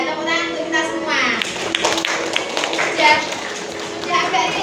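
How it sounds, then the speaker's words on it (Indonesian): A group of children clapping together in a relaxed classroom-style session, a dense burst of overlapping claps with young voices and chatter mixed in throughout. "tepuk tangan untuk kita semua"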